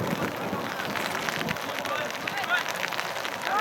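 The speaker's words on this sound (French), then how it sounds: "On filme sous la pluie" Rain falls steadily during a youth football match, a constant hissing patter with wind, while a commentator talks over it.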